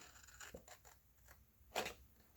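Scissors cutting paper or card while making a pencil box, with a few quiet snips and one sharper, louder cut near the end, all close up and faint, with no voices.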